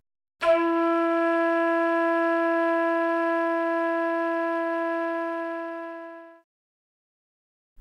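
One sustained flute note, clear and pure, holds steadily for about six seconds before stopping, with silence around it.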